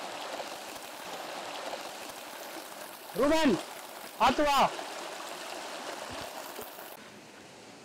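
Steady broadband rush of water pouring down the TP Kota waterfall stream fills the whole stretch, with two short bursts of voices speaking over it midway.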